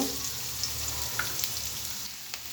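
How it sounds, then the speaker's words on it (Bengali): Onions frying in a pan with a continuous, even sizzle, close and moderately loud, alone without talk, a few light crackles popping through. "আমি এখন এই পেঁয়াজগুলো একটু ভাজি করে নেব"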